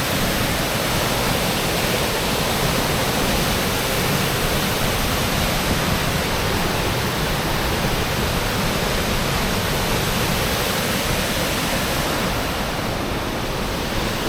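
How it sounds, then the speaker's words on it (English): A waterfall near Kaprun in the Austrian Alps roars as a steady, dense broadband rush, loud and unbroken throughout with no voices over it. "There's a waterfall."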